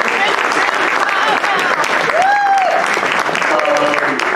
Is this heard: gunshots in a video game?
no